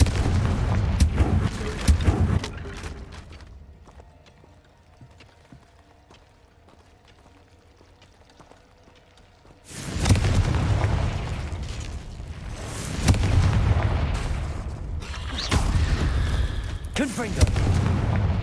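Confringo fire-blast spell explosions in the Hogwarts Legacy video game: loud, booming bursts at the start, then a quieter stretch, then a dense run of heavy blasts and rumbling.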